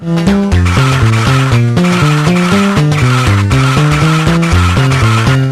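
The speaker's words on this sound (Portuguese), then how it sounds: "por que o som do Drift é tão alto, cara?" Loud, continuous tire squeal from a car drifting in a cartoon-themed racing video game, sustained without pause over a pulsing, steady game soundtrack.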